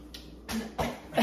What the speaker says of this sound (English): You're coughing, they hit you on the back.